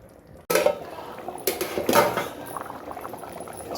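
Mutton keema in a pot: a sharp metallic clank of the lid and pan opens the sound, followed by a few more clatters and a soft, steady bubbling simmer underneath.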